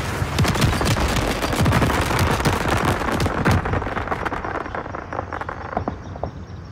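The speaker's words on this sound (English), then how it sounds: "Ooh, fireworks." Fireworks in the video game Call of Duty Modern Warfare, a loud dense barrage of rapid crackling bursts and pops that gradually thins out toward the end.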